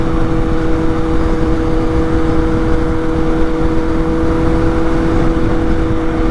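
Kawasaki Z800 motorcycle fitted with an EZKOS exhaust riding at speed, a loud steady engine drone with a constant low rumble and a sustained tone throughout, no voices.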